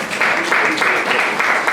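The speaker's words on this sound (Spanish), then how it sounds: "Denle un fuerte aplauso al Señor" A church congregation applauds during a worship service, a dense, steady wash of clapping that holds at full strength for the whole short moment, with no break or fade.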